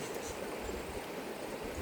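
Water swirling in a plain, ridgeless pan while panning for fool's gold, a continuous soft sloshing and rushing wash heard close and steady throughout.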